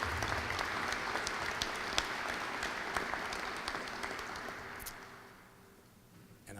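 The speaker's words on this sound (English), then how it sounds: "Let's give them a round of applause." Audience applause fills a room at a ribbon cutting ceremony for a humanities and social sciences building, a steady wash of clapping with sharp individual claps that fades away near the end.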